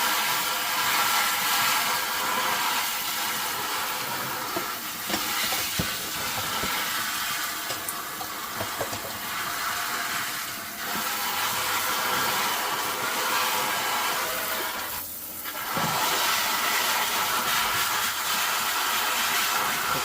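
Water spraying steadily to rinse lint out of a GE Profile washer-dryer combo's drain filter, a continuous hissing rush with brief dips as the spray shifts.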